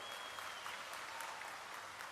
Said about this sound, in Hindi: सब ताली बजाओ